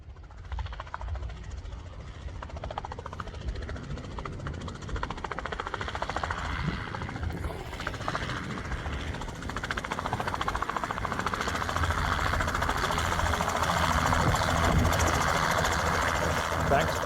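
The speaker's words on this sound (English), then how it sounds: "The captain took control of the chopper to land," A helicopter comes in to land on a runway, its engine and rotor roar steady and loud throughout, swelling slightly toward the end.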